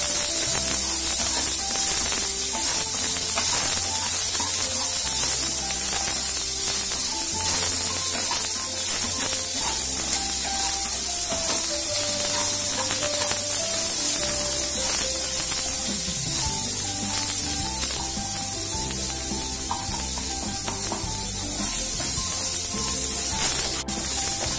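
Onions sauté in a pan for tomato chutney with a steady, even sizzle and hiss that runs unbroken throughout, under soft background music.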